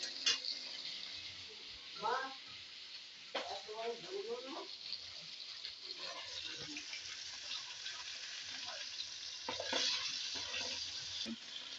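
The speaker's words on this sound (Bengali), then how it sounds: "মাছ আমার ভাজা ভাজা হয়ে গেছে, নামিয়ে নেবো।" Fish frying in a pan, giving a quiet, low crackle of sizzling oil under intermittent speech from a woman, with a few clinks and stirring sounds mixed in.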